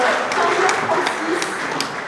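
An audience at an investment forum on Africa applauds, steady clapping of moderate loudness that continues briefly after the host asks for it.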